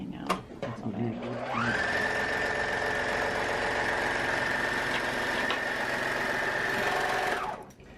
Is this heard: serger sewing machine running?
yes